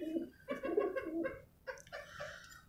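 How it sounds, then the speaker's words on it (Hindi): A male white pigeon coos inside its cage, a few soft, rounded calls close by in quick succession, with a short pause before a final burst. "ये मेल आप लोग देख सकते हैं, खुद ही आ गया अपने केज के अंदर।"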